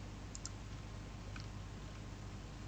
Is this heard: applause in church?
no